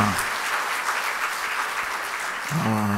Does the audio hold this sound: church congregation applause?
yes